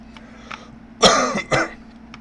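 A person clears their throat twice in quick succession, close and fairly loud, with a few faint breathy sounds before it in an otherwise quiet indoor space.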